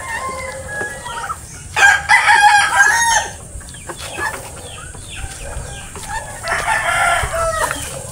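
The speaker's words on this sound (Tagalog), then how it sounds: "Daming manok." A rooster crows loudly and clearly among steady clucking hens on a farm, with more crowing and clucking carrying on through the background.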